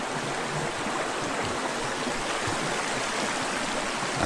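A shallow stream flows at an outdoor bathing spot, a constant close rush of water with no breaks and no voices.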